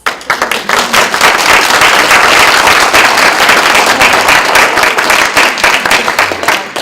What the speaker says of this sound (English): I just wanted to give a great round of applause